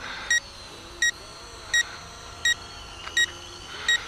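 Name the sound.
regular warning beeps from a camera drone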